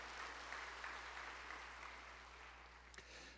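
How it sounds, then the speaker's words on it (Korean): A church congregation claps together during a Sunday revival service, a dense, even wash of applause heard from a distance that gradually fades, with a steady low electrical hum underneath. "우리 격려와 위로와 사랑의 박수 한번 해주시겠습니까?"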